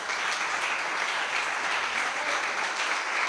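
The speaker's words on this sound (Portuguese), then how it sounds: "Dê uma salva de palmas para Jesus" Churchgoers at a Portuguese-language service give a sustained round of applause, a dense even clapping wash that stays steady throughout.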